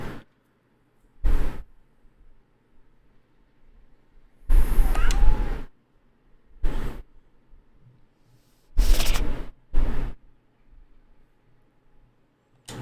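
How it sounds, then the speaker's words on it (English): A pet cat makes a few short, loud bursts of sound separated by long near-silent gaps, close to the microphone in a quiet room. "Sorry if you heard that noise, that would have been my cat Kirby."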